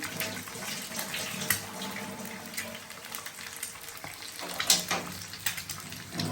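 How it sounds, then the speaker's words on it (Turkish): Hands washed under a running kitchen tap, steady water splashing close by with some clatter, no talk. "Şimdi ellerimi yıkıyorum"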